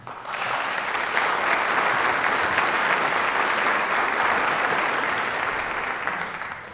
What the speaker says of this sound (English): I think the applause from the audience recognizes that.